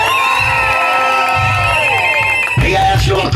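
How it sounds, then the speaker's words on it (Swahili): A church congregation at an opening gathering in Kasulu cheers and shouts loudly for Jesus, a dense crowd roar with whoops and rising voices. "Piga Yesu makofi wewe"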